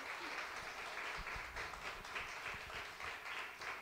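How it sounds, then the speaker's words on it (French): Audience at a memorial tribute breaks into steady, dense applause, many hands clapping in an even patter throughout, heard at a modest distance with only faint talk beneath it. "je vous demande d'applaudir bien fort Madame Paulette Nuremberg et Monsieur Alexandre Nuremberg"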